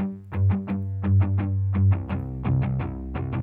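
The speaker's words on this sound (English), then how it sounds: "Have this guitar." A guitar sample strummed automatically by a sound bank and run through distortion and chorus effects, playing rhythmic chord strums in short bursts with a sustained low note underneath, alone without talk.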